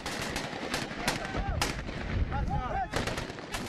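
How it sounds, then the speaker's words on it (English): Gunfire and artillery in the besieged city of Misrata during the Libyan war: dense, continuous bursts of rifle and machine-gun fire with heavier booms mixed in, and brief whistling tones cutting through the barrage. "disorganized, untrained insurgents, fends off Gaddafi's firepower"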